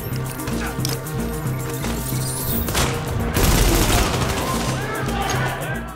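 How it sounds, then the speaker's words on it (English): Game gunfire from a firefight in Tom Clancy's The Division on Xbox One, dense and continuous with crashes and bursts under a loud music-like bed, no clear talk. "quit shooting at me from random spots"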